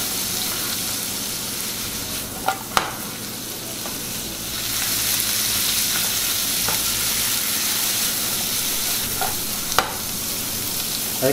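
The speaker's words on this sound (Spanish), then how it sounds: "Vamos a dejar que se empiecen a freír un poco" Green beans and garlic fry in a pan with a steady, close sizzle that grows a little louder partway through, broken by occasional sharp clicks of a utensil, with no talking.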